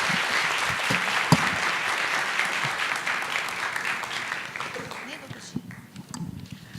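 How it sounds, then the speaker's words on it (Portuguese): Audience applause for the guests at a Unibes Lab 2017 event, a dense sustained ovation filling the room that thins out near the end, with scattered voices mixed in. "Uma salva de palmas para os nossos convidados."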